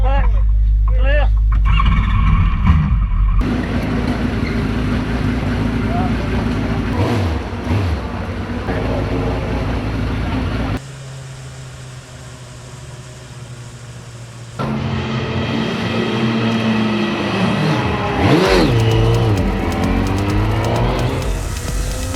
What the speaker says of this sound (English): Tell them I'm going to start the engine.